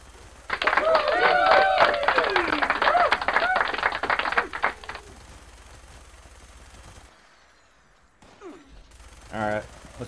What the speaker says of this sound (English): my turrets are already actively shooting, and I'm not involved in the battle